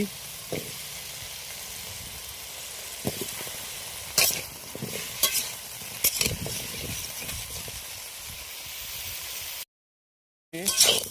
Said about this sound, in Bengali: বন্ধুরা, আলুগুলো আমি লাল লাল করে ভেজে নিচ্ছি।